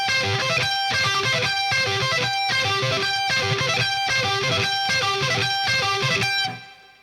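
Heavily distorted electric guitar rips through fast, repeating sweep-picked arpeggios played without pull-offs in a steady pattern, loud and upfront, then cuts off at the end.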